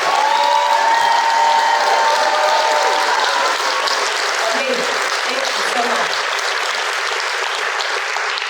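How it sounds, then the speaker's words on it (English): Loud, sustained applause from a crowded audience at a poet-athlete awards event honoring a DC artist, continuous clapping throughout while a voice speaks briefly over it midway. "Please stand so we can give you a round of applause."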